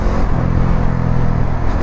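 A Bajaj Dominar 400 motorcycle at high speed produces a dense, steady engine roar mixed with rushing wind noise, loud and close throughout.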